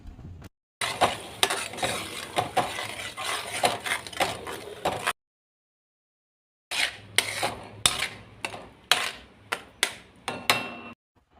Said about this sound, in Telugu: కొంచెం చింతపండు పులుసు ఇవన్నీ కూడా వేసి బాగా కలుపుకోండి.